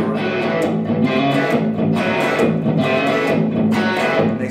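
Electric guitar through a Roland GR-55 Deluxe Reverb preamp, strummed chords with a slightly driven, warm tone, loud and close, steady rhythm throughout.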